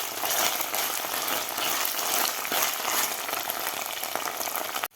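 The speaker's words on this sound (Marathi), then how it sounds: "कढीपत्ता आणि अद्रक लसूणची पेस्ट घातल्यानंतर 1 मिनिटभर आपल्याला आणखी परतून घ्यायचा आहे कांदा" Onion sautés in hot oil with curry leaves and ginger-garlic paste for masala khichdi, a loud, steady close-up sizzle running unbroken for about five seconds before cutting off abruptly.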